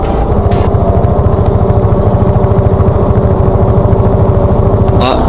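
Suzuki Address V100 two-stroke scooter engine straining up a mountain pass road, a loud, steady, close buzzing drone with a dense pulsing rhythm that holds throughout, barely changing pitch as it labours on the climb.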